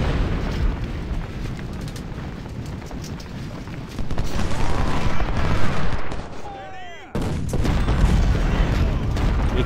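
Cannon fire in the Civil War strategy game Ultimate General: Civil War, booming shots and rumbling battle noise filling the scene loudly, with a sudden cut and a short whistling sweep before the barrage resumes.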